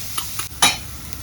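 Onions with green chili and curry leaves sautéing in a pan, a few short stirring scrapes and clinks over a soft sizzle, close and fairly loud.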